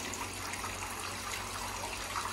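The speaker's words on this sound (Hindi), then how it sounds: "हम धो रहे हैं जी आलू।" Tap water running steadily while potatoes are washed by hand, a continuous close splashing rush with light trickling and no pauses.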